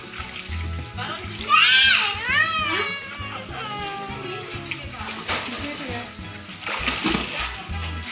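Water splashes and sloshes as children play in a small backyard pool converted from a catfish pond, with kids' voices and high squeals mixed in throughout.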